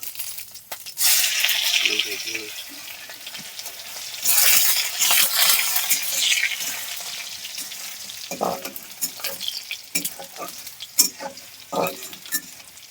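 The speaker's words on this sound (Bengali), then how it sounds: "রসুনটা হালকা লাল লাল করে ভেজে নেব।" Dry red chillies and garlic frying in hot oil, with bursts of loud crackling sizzle up close, then a spatula stirring and tapping against the pan as the spluttering settles to a lighter fry.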